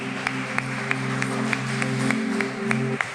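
A congregation claps steadily in time during a worship service, evenly spaced claps about every third of a second over sustained music, moderately loud and continuous.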